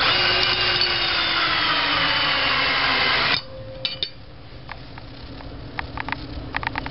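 A power drill drives a screw into a pulley bracket mounted on a wooden floor joist for a home-built weight machine, a loud steady whine for about three seconds that stops abruptly, followed by faint clicks and handling.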